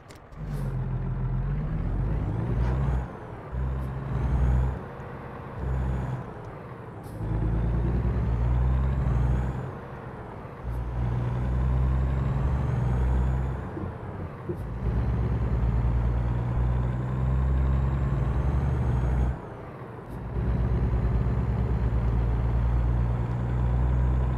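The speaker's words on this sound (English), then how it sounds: "That'll make the truck a little quieter" In the American Truck Simulator game, a heavy truck engine drones and revs steadily while hauling a 30,000 lb knuckle boom loader. Several sharp hissing air brake releases punctuate the loud engine sound, with brief gaps between them.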